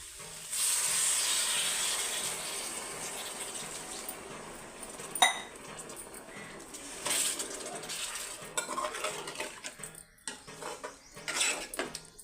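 A sudden loud sizzle and hiss, like water hitting hot oil, gradually settles into a softer bubbling, with a few clinks of a pot or utensil.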